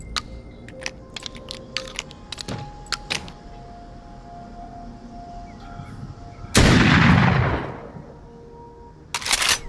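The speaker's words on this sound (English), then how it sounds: "That was a gunshot." A single loud gunshot blasts in a video game, a sharp burst standing out over faint game ambience, clicks and scattered keyboard-like taps.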